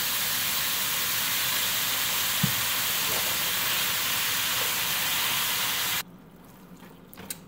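Ground meat with seasoning and minced garlic sizzles loudly and steadily in a pan, a dense close hiss that cuts off abruptly near the end, leaving faint kitchen noise.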